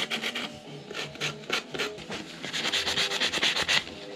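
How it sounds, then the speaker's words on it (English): Close-up hand sanding of a black, carbon-fouled snowmobile power valve: repeated rhythmic rasping back-and-forth strokes, steady and fairly loud, quickening toward the end, with no talking. "Do I just sand it?"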